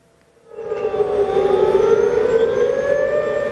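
Civil defense air raid siren sounding during a 2 p.m. city-wide evacuation drill, rising in and then holding one loud, steady wailing tone outdoors.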